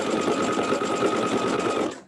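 A sewing machine runs steadily through a seam in one close, loud continuous burst of rapid stitching that stops abruptly.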